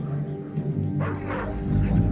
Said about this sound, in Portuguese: já se formou uma população de cães ferozes que andam ao redor dos vulcões pequenos